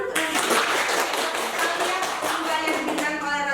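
Applause from an audience at an academic teaching presentation, a steady crowd clapping that fills the whole moment at moderate level with some voices mixed in.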